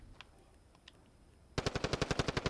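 Automatic gunfire in the video game Warzone: after a quiet stretch with a few faint clicks, a loud, close burst of about a dozen rapid, evenly spaced shots.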